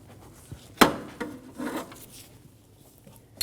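The alternator on a 2008-2015 Scion xB 2.4L L4 is pulled back into position in the engine bay, giving one sharp metallic clank followed by a few softer knocks and scraping rubs, close and fairly quiet, with no talk.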